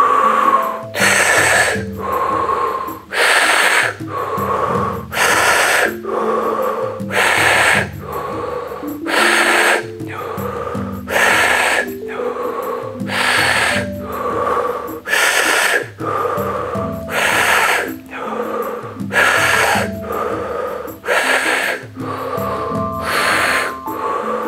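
Rhythmic breathwork for stress relief, with close, forceful inhales and exhales repeating roughly every second and a half in an even cycle over soft background music.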